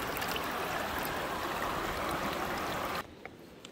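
Steady rushing water runs over the riffles of a gold panning sluice in a Scottish stream, a broad continuous wash that cuts off abruptly near the end, leaving only faint trickles.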